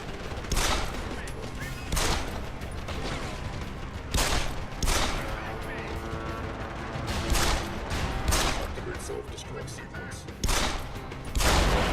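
Bursts of gunfire from the Deus Ex video game crack out in repeated volleys every couple of seconds, loud and close, with someone talking between the shots.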